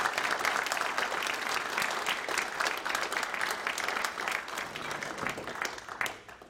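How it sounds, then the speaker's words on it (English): Warm, steady round of applause from a support group meeting audience honoring a longtime librarian, dense clapping that holds strong before tapering off at the end. "I would like to have a round of applause for my buddy"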